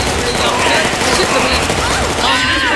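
Rapid automatic gunfire crackles in a loud, dense stream throughout a competitive first-person shooter match, with overlapping bursts and an energetic commentator talking over the shots.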